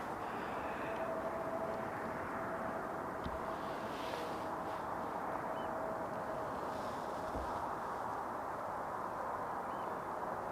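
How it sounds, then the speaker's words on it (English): Pegasus Air Airbus A320neo arriving from Istanbul at Amsterdam Schiphol's Polderbaan runway, a broad steady jet roar held at even loudness throughout, with a few crow caws on top. "A320neo from Pegasus Air, coming in from Istanbul, Turkey."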